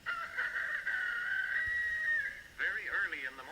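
A rooster crows in the early morning: one long, steady, fairly loud call held for about two seconds, then a brief pause and a wavering, warbling tail, heard close and alone.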